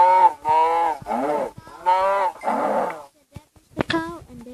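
Cow in a survival video game, a series of loud, close moos in quick succession, each a drawn-out lowing call, with a short pause and a final higher call at the end.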